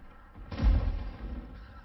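Tank cannon fire in World of Tanks, a single deep boom that rises sharply and decays into a rumbling tail over about a second, fairly loud and alone.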